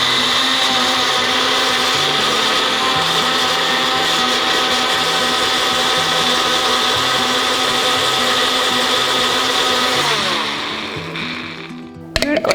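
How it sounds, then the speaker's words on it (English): A blender runs steadily at full power, whirring through tree tomatoes (tamarillo) for homemade hummus, then winds down and cuts off near the end. "close the lid, and we're going to blend it"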